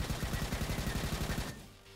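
Windmill rifle firing in the video game RoboQuest, a rapid steady burst of punchy automatic shots that stops abruptly after about a second and a half, with no talk over it.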